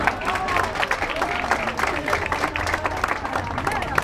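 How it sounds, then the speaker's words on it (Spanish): Applause from a crowd at an event, steady clapping mixed with murmuring and a little talk, fairly close and continuous across the few seconds. "bien fuerte el aplauso para ellos"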